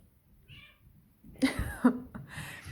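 Indoor house cat meowing, a faint short call early on followed by two louder, closer meows and further noisy vocal sounds in a home.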